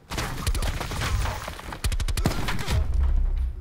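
Gunfire in hardcore mode of Black Ops 4: several sharp, loud shots and quick bursts fired close by, with a dense cluster near the middle, and no talking.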